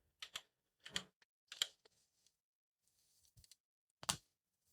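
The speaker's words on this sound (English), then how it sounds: "I see Dave is typing in the stuff" Someone typing on a computer keyboard during a podcast recording, faint scattered clusters of key clicks with pauses between bursts, no talk.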